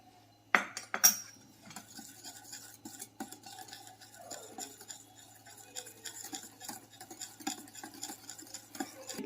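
A metal spoon clinks against a bowl as vanilla essence is added to plum cake batter, with a couple of sharp taps near the start followed by light, steady scraping and stirring.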